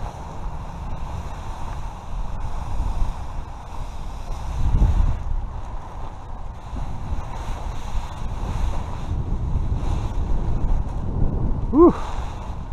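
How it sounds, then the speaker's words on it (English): A breeze blows steadily across the microphone while a Cross Kites Sonic 7.5m kite is flown, a low rushing wind that swells in gusts around the middle, with a brief squeaky sound near the end. "That's a good breeze coming through."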